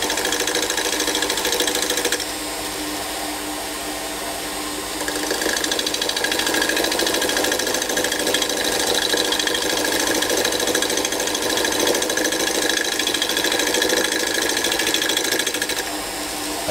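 A lathe turns a piece of wood with a dense, continuous rattling whir and scraping, loud and steady with a brief drop in intensity early on before resuming.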